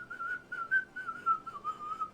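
A man whistles a wavering, continuous tune alone, close and fairly quiet, imitating an elf character folding clothes in a back room, the melody rising and falling in short phrases for about two seconds.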